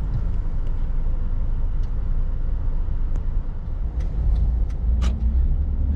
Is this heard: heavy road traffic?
yes